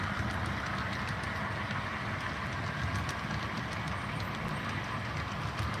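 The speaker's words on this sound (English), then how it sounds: "this auto rack train will be heading towards the Aspen tunnels" An auto rack freight train heading to the Aspen tunnels rumbles by in a steady, dense roar of wheels and rolling cars, continuous and close, with faint clicking over the rails.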